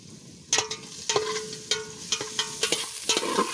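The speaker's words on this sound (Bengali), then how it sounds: "দেখো পেঁয়াজ কীরকম ভাজা করে নিচ্ছি দেখতেই পাচ্ছ" Onions fry in a pot for biryani, with a steady sizzle under repeated sharp scrapes and clacks of a spoon stirring, roughly every half second, close and fairly loud.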